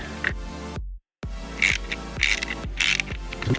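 Plastic DeLorean Time Machine model kit parts being fastened with small BP screws, plastic into plastic, giving repeated close ratcheting clicks from a screwdriver in short bursts, broken by a brief silent gap.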